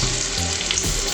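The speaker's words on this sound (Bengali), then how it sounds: "মিডিয়াম ফ্লেমে করে আমি রসুনগুলো ভাজছি" Chopped garlic sizzles in hot oil over a medium flame, a steady close crackling fry with no talk.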